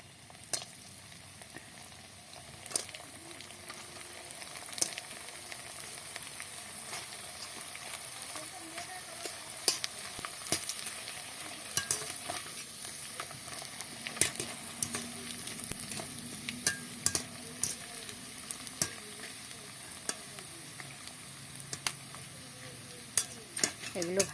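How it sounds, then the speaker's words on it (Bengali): Papad made from leftover soaked rice fries in hot oil in a wok, a steady close sizzle punctuated by frequent sharp clicks and scrapes of stirring, with brief faint talk now and then. "এখন আমি এইগুলোকে তেলে ভেজে দেখাচ্ছি।"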